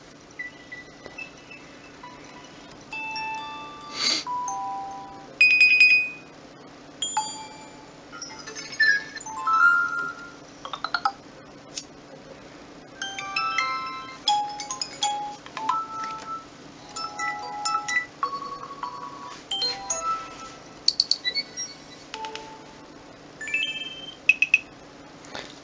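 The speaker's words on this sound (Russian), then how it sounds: "Есть рингтоны уведомлений еще." Notification ringtones play one after another on a cheap MTS 970 Android smartphone, a long string of short electronic beeps, chimes and melodic jingles, loud and close, separated by brief gaps.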